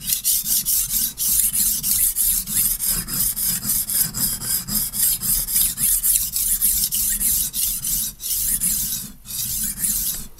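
Knife sharpened on a new HORL 2 rolling sharpening stone, a rhythmic rasping scrape repeating quickly back and forth, loud and close.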